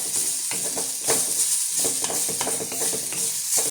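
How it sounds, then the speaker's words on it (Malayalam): Fennel seeds, shallot and garlic frying in a pan, a close, steady sizzle broken by soft stirring scrapes. "ഇതിലേക്ക് എടുത്ത് വെച്ചിരുന്ന ആ പെരുംജീരകം അതിട്ട് കൊടുക്കുക"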